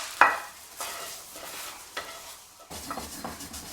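Whole spices for a rogan josh dry-roast in a pan, with a steady close sizzle and rustle. Several scraping stirs punctuate the sizzle, and no one speaks.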